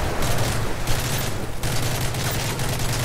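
A tank-mounted minigun in Call of Duty Modern Warfare 3 fires in a sustained, dense roar of rapid shots that runs almost unbroken, with brief dips, loud and close.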